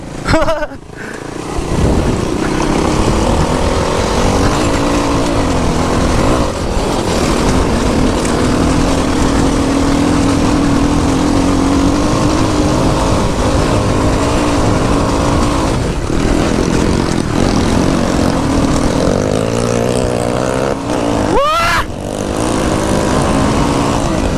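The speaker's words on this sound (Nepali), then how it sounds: "भाइको यो साइलेन्सर नै यस्तो भएछ के गाएछ हेर्नु न, त्यो माथिको नटै पुस्किएर।" A motorcycle exhaust with a loose nut on the silencer drones loudly and steadily at close range, a rough buzzing engine note that holds for the whole stretch, with brief dips and one sharp rising rev near the end.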